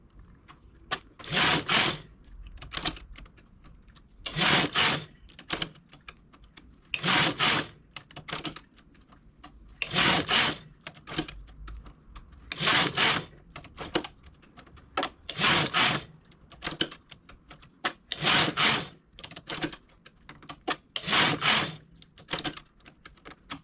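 A knitting machine carriage with a large lace transfer tool sliding across the needle bed, a rhythmic series of loud rasping sweeps about every two to three seconds with quieter clicks between.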